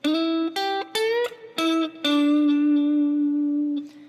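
Solo electric guitar plays a short bluesy phrase of a few picked notes, ending on a long sustained tone.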